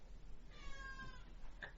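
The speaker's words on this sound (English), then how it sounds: "you're all like, meow!" A single short cat meow with a rising, tonal whine, fairly quiet over low background hum, followed by a brief faint click.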